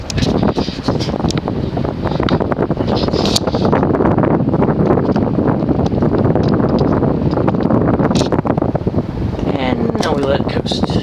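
A Casablanca Victorian 52-inch ceiling fan from around 1990, fitted with a Fanimation flywheel, runs at speed. A strong, gusty rush of moving air buffets close to the microphone throughout, with faint voices underneath.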